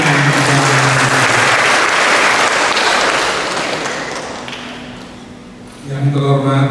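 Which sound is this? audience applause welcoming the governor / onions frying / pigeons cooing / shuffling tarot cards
audience applause welcoming the governor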